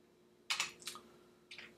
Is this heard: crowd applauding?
no